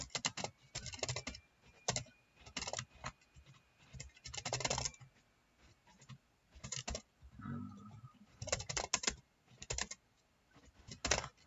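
Bursts of clicky typing on a computer keyboard while rewriting a Java method, quick runs of keystrokes broken by short pauses, close and fairly quiet with no voice.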